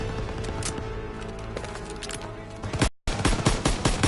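Machine gun fire in a WWII video game, loud rapid bursts rattling continuously, briefly cutting out near the end before resuming in sharp close volleys.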